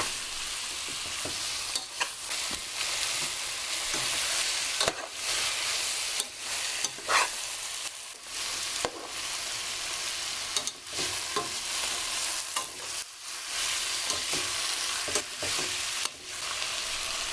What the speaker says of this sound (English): Stir this together.